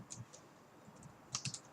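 Sparse, faint keystrokes on an Estonian-layout computer keyboard during programming, a few scattered clicks followed by a short quick burst near the end in a quiet room.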